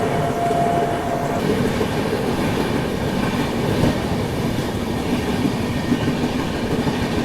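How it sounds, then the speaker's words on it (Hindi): The Bhubaneswar Dhanbad Express rumbles past at a crossing on a scenic Odisha rail route, a loud continuous roar of wheels and carriages with faint rhythmic clatter throughout. "तो ये है भुवनेश्वर धनबाद एक्सप्रेस, जिसके साथ अपनी क्रॉसिंग हो रही है अभी।"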